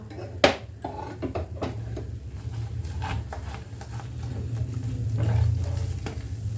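Badam halwa with ghee being stirred in a pan: a sharp spoon knock opens, then scattered clinks and scrapes of the utensil against the metal over a low steady hum, close and moderately loud.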